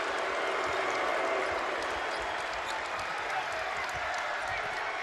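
A sellout basketball arena crowd in Bowling Green at a Wisconsin versus Western Kentucky game keeps up a steady, dense hiss of applause and crowd noise, unbroken and fairly loud for the whole stretch.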